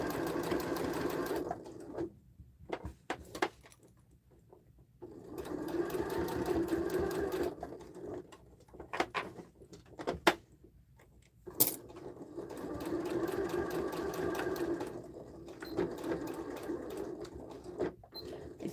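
A domestic sewing machine stitches fabric for a sling bag in several steady, whirring runs of a few seconds each, separated by short pauses and small clicks, close and clear with no talking.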